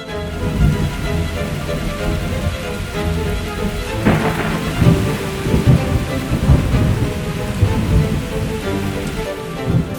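Steady heavy rain pours throughout in a forest while rolling thunder rumbles low, with a louder crack of thunder near the middle.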